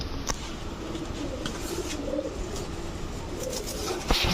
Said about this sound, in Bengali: সিলভার চুইঠাল একটা সবুজ গলা মাদি কবুতর